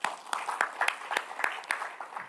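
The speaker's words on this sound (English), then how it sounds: "So I really want all of you to join with me to applaud them for their commitment to this university." An audience at a university symposium claps in a sparse, rhythmic burst of individual claps, moderately loud and fairly close, with no voices over it.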